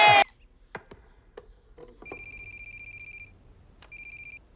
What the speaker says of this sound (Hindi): अजय सर, आपका फोन।